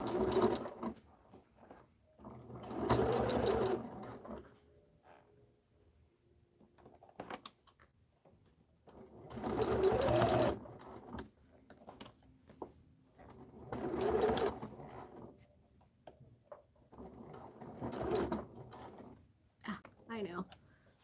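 Sewing machine stitching a seam on a bag, running in several separate bursts of rapid mechanical whirring with quiet pauses between them, close and fairly soft.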